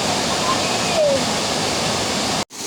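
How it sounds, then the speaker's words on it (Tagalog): A strong river current rushes in a continuous loud roar, close by like a waterfall, steady throughout before a brief sudden cutout near the end. "Lakas ng agos."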